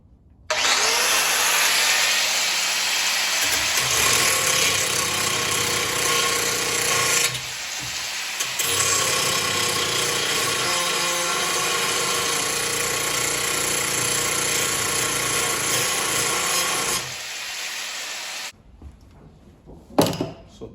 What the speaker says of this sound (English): now once you cut those, we want to grind this metal down. Get my grinder.